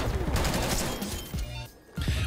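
Rapid bursts of Lapa SMG fire in Call of Duty Cold War, loud and close, with a short pause before a final burst.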